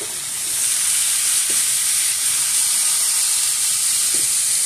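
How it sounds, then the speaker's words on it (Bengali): Chopped radish frying with shrimp in a pan for a Bengali radish bhaji, a steady loud sizzle and hiss of hot oil running throughout with a few faint stirring clinks. "মূলাগুলো আমি আগে থেকে ভালো করে ধুয়ে কুচি করে নিয়েছি, দিয়ে দেব।"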